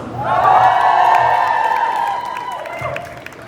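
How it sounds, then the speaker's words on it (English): A large outdoor crowd of students, staff and public at a university pro-Palestinian protest in Leeds cheers and whoops loudly, a sustained roar with shouts and clapping that swells then gradually fades. "Let's get a big old cheer for all the students, staff, and members of the public who are out here"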